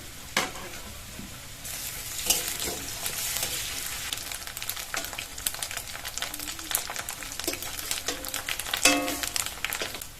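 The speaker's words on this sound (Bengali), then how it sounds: "এর মধ্যে আদা আর রসুন বাটা দিয়ে দেবো।" Ginger and garlic paste frying with reddened onions in a pan, giving a steady sizzle with recurring scrapes and clatters of stirring, close and moderately loud throughout.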